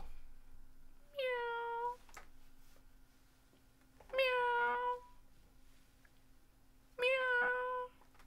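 A cat meows three times, each a clear drawn-out call with pauses between, fairly close in a quiet room with a faint steady hum underneath.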